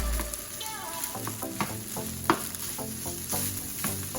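Basmati rice and vegetables frying in a pan, a steady sizzle broken by repeated scraping, knocking strokes of a spoon as the mixture is stirred, close and moderately loud.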